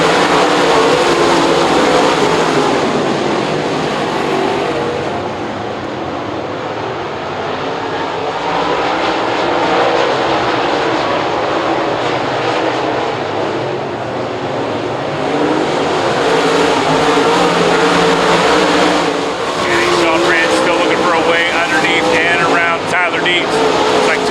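Sprint cars race around Lernerville Speedway in western Pennsylvania, a loud continuous roar of several engines swelling and fading as the pack passes, heard beneath an announcer calling the race.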